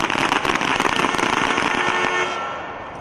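Several shooters in an Army team pistol match fire pistols at targets, producing a dense, overlapping stream of sharp cracks that runs steadily for about two and a half seconds before tapering slightly.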